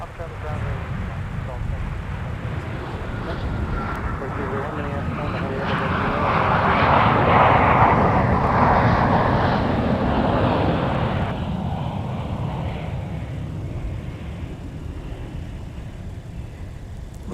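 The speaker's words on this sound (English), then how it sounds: "There's the Ziegler private jet." Jet engine noise from a private jet taxiing at Minneapolis MSP airport, a steady roar that swells in the middle and then fades slowly, loud and continuous, with radio-style chatter over it.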